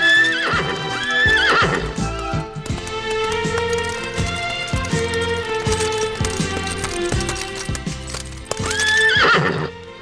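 A handsome horse belonging to a mountain chieftain in a French children's cartoon neighs loudly twice, near the start and again near the end, over steady music with clip-clopping hooves.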